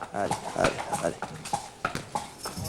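Trotting horse hooves on a racing training track, steady rhythmic clip-clop beats under someone talking throughout.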